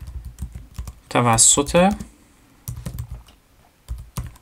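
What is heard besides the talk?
typing on a computer keyboard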